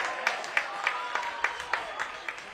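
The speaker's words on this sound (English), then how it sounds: "The crowd here fired up" Stadium crowd at a pro soccer match between Real Monarchs and Vancouver Whitecaps 2 reacts after a missed shot, a distant roar of cheering with scattered claps, beneath faint commentary.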